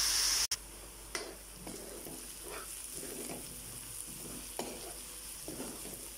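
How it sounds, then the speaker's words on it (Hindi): Onions fry in a pan for chicken karahi with a soft, continuous sizzle, broken by a few sharp clicks and light scraping taps of stirring. "प्याजों को हमने अच्छी तरह से फ्राई करना है।"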